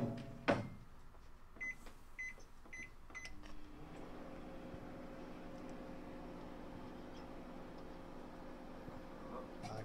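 A few clicks and knocks, then a steady low electrical hum drones on continuously from a running microwave oven heating a grape in a plastic container.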